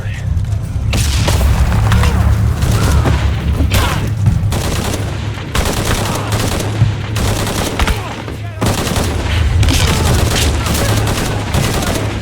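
Dense, loud gunfire rattles through a firefight in Shadow of the Tomb Raider, with sustained bursts of automatic shots and heavy booms and almost no break, while voices shout over the barrage.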